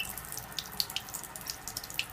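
Water runs from a KYK 66000 alkaline water ionizer on its purified setting, a light steady trickle into a sink with scattered bright drips and splashes, faint and close.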